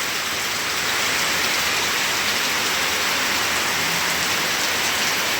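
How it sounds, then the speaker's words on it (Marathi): Heavy monsoon rain pours steadily over a farm field, a dense, continuous hiss of downpour with no gaps, close and loud throughout. "आणि भरपूर असा पाऊस चालू आहे."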